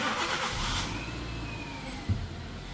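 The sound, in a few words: car engine starting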